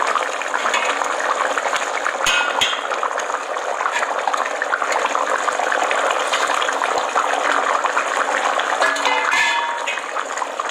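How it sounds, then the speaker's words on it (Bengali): Hilsa fish pieces go into a bubbling eggplant curry in a pan, with a steady, close sizzle and simmer throughout and a few small clinks, no talking. "দেখো ফুটে গেছে যখন ফুটে যাবে তরকারিটা এবার আমি মাছগুলো দিয়ে দেবো"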